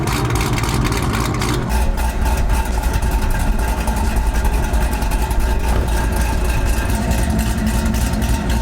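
Chevrolet Camaro idling with exhaust valves set to stealth mode, a muffled quieter setting; a steady, close engine drone continues with only slight fluctuations.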